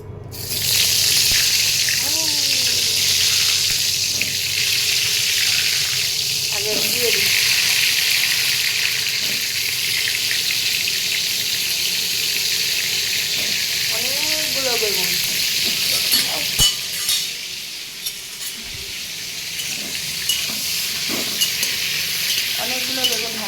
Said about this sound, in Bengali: অনেকগুলো বেগুন আজকে ভাজতে বসিয়েছি